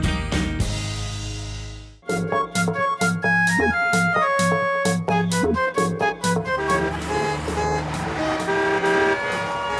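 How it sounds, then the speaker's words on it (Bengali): Car horns honk repeatedly in a busy cartoon street, a loud dense jumble of overlapping toots and beeps in choppy bursts after a brief pause, with traffic noise underneath. "গাড়ির হর্নের আওয়াজে এত ভয় পেয়ে গেলে?"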